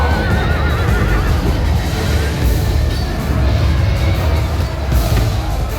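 Horses neigh and whinny amid the steady roar of a cavalry clash on an open Spanish plain in Medieval II: Total War, Holy Roman Empire troops against Spain's dismounted conquistadors, with loud, unbroken battle noise throughout.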